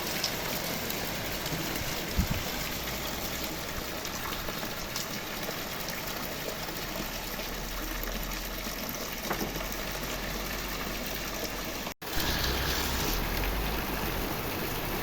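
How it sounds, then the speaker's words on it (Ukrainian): Summer rain falling steadily, a dense even hiss of drops outdoors, continuous and fairly close, with no speech. "І дощик іде, і сонечко світить."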